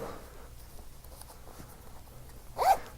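A zipper on the upper-arm compartment of a Propper TAC.U Battle Rip combat shirt is pulled open in one quick, close rasp near the end, after a quiet stretch.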